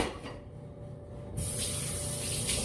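Kitchen tap water running into a sink while washing up during porridge cooking, a soft trickle that suddenly opens into a loud, bright gushing spray, close by.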